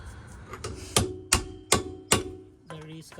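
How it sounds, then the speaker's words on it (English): A hammer drives a ball joint during a rear spring installation on a Honda Element or CR-V. After a couple of lighter taps come four sharp, ringing metallic blows at an even pace, close up, then a brief rattle. "be careful when you hammer this part of the ball"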